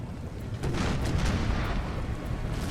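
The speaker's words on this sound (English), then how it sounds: "A lot of our cannons are blasting the French as they approach" Massed cannons of a Napoleonic-era army fire toward advancing French troops in Napoleon: Total War, a dense rolling rumble of overlapping distant blasts that never lets up.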